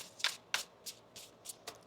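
Crisp, riffling bursts of tarot cards being shuffled, about six quick flurries in a row, close by and otherwise quiet.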